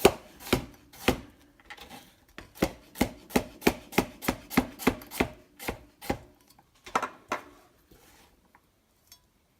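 Knife chopping chocho (chayote) on a board for a jackfruit curry: a steady run of about fifteen crisp, close chops in quick rhythm, with a few scattered taps before and after.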